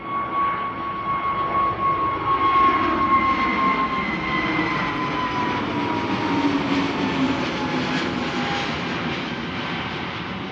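A British Airways airliner flies overhead after departing Amsterdam Schiphol on a sunny morning, bound for London Heathrow. It produces a steady, fairly loud jet roar with a slowly shifting engine whine that lingers for the whole stretch, with no voices.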